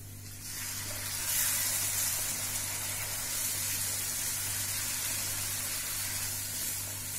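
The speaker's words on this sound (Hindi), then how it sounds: "अब चाशनी डालेंगे इसमें" Sugar syrup poured into moong dal halwa cooking in desi ghee gives a steady, fairly loud sizzle and hiss that carries on throughout, with no talk.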